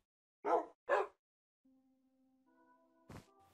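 A dog in Minecraft on PS4 gives two short, close barks in quick succession, followed by quiet tonal game sounds and a soft thump.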